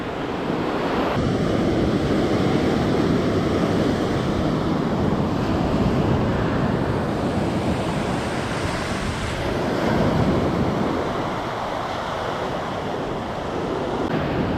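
Waves roll onto a wide, hard-sand wild beach on the Baltic coast between Ustka and Łeba. The surf roars as a constant loud wash, and strong wind buffets the microphone.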